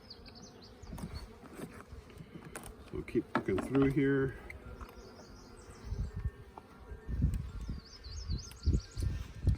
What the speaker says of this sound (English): See the bees.